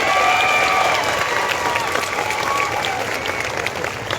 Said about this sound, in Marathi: एकदा हृदयाच्या तळापासून जोरदार टाळ्या वाजवा. टाळ्या जोरात झाल्या पाहिजे